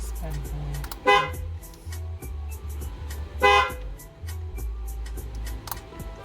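A VICREZ carbon fiber LED-equipped steering wheel horn gives two short, loud honks about two seconds apart, over a low steady hum with faint voices in the background.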